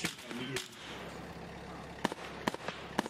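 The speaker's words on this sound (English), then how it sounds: "someone's getting shot at right now" Sharp bursts of video game gunfire crack out a few at a time near the end, over a steady low background hum; one burst comes early and a cluster of shots follows later.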